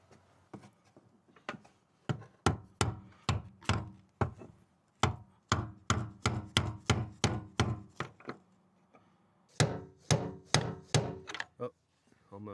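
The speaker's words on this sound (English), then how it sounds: "I think I just got to get a hammer." Hammer blows driving a gas tank against its O-ring on a car, a long run of sharp, close thunks at a steady beat with short pauses, nearly alone with little talk.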